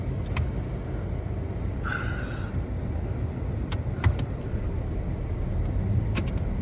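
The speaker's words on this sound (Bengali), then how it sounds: "গাড়ির চাকা স্লিপ খাইতেছে" A car creeps slowly over a snow-covered road, its wheels slipping with a steady broadband rumble and a brief whining spin partway through, plus a few light clicks and knocks.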